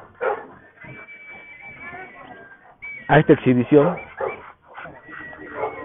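Dogs bark and whimper in the background, scattered short yips and whines, while someone speaks loudly over them.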